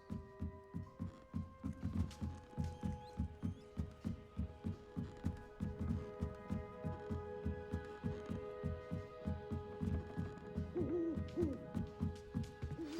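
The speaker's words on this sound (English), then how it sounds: "Don't mind me, owls." Owls hoot in a steady, rhythmic run of soft low pulses inside a Hogwarts Legacy owlery, with a sustained hum and tonal game ambience beneath them.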